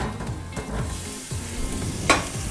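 Boiled, peeled potatoes go into a sizzling pan for samosa filling, producing soft repeated scraping and frying sounds, close by, with one sharper clink near the end and no talk.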